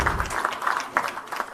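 A brief burst of audience clapping at a government MoU signing ceremony, moderate and somewhat distant, fading quickly.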